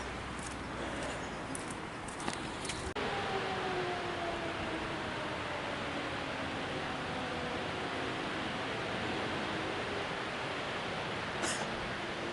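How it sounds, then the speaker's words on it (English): A distant fire siren winds slowly downward in pitch, long and wailing, under a steady hiss of wind and outdoor noise along a trail. "Train horns, fire sirens."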